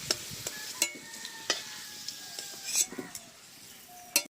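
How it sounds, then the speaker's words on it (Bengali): Vegetables such as pumpkin sizzle softly in plain hot oil, with a utensil clinking and scraping against the pan several times at irregular moments. "খালি তেলেই কিন্তু সমস্ত সবজিগুলোই ভাজবো"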